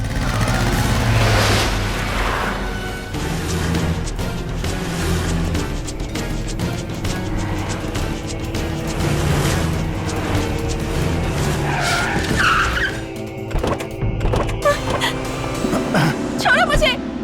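A car pulls away with tires skidding and squealing amid loud engine noise, mixed with dramatic film music and sound effects while people shout and speak over it.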